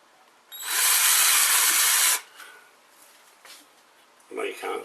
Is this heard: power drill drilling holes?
yes